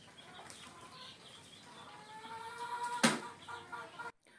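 Backyard brood hens, eight loose in the yard behind the house with two tethered brood stags nearby, clucking softly in a low, steady murmur, with one sharp louder call near the end.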